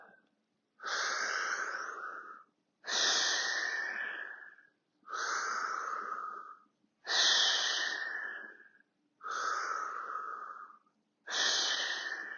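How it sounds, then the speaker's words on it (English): Heavy rhythmic breathing during a fitness class exercise, six long, loud breaths, each lasting over a second, with short pauses between them, close and with no talking. "Inhale down, exhale up, inhale, exhale."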